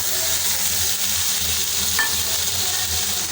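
Chopped capsicum and tomatoes frying in hot oil while being stirred, a loud, continuous sizzle with a soft scrape of the spoon partway through.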